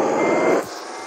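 A truck in a truck-driving video game gives a fast run of electronic reversing beeps, clear and steady, that stop partway through over a quieter engine hum.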